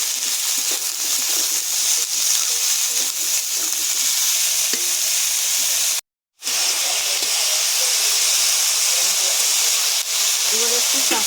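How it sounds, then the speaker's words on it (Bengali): Cauliflower and peas fry in a pan with a continuous loud sizzle and hiss, broken by occasional stirring scrapes and one brief silent gap partway through. "এবারে ভালো করে ভাজা ভাজা করে নেব।"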